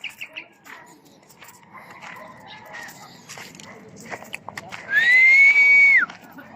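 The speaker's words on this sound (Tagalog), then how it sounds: "Sipol tayo mga kamatik." A single sustained whistled note rings out near the end, loud and steady, after quieter scattered sounds and faint background activity.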